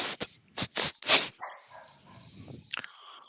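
A dog barks in a quick series of sharp, fairly close yips and woofs, then gives a softer whine and a final short burst, with no voices over it.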